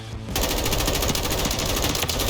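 Rapid automatic gunfire from a DTI7 rifle in Call of Duty: Modern Warfare III, a dense, loud continuous burst after a brief quiet start, with no talking over it.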